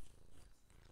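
A cat purrs steadily and close while being played with on a person's lap, a low continuous rumble with faint rustling on top.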